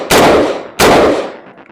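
Two sharp, loud gunshots from a shooting drill ring out about 0.7 seconds apart, each followed by a short echoing decay.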